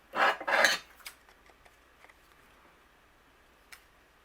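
A paper trimmer or blade slices overhanging card off a handmade card panel in two quick rasping strokes, close and crisp, followed by a few faint taps and near silence.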